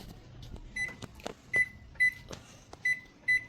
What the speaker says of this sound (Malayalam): ഇനി നമുക്ക് ഓവനിൽ വയ്ക്കാം ഓവനിൽ വയ്ക്കുകയാണ്